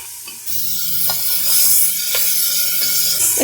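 Beef frying with garlic and ginger paste, a loud, continuous close sizzle that swells slightly as it goes, with a few soft stirring knocks and no voices.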